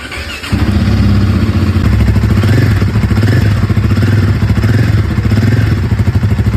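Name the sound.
Royal Enfield Guerrilla 450 motorcycle exhaust note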